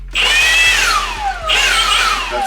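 A Milwaukee M18 cordless blower runs on its low speed setting, a close, steady motor whine and airy rush that sweeps down in pitch twice over a couple of seconds, with no talk.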